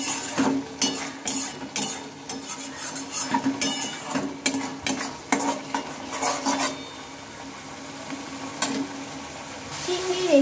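A spatula clanks and scrapes repeatedly against a pan while a spice paste with turmeric and chili powder is stir-fried, with faint frying underneath and brief quiet stretches toward the end.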